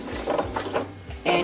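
A sewing machine stitches a lined zipper pouch in a short run of quick mechanical bursts. The sound is close and steady, with a brief lull before it picks up again.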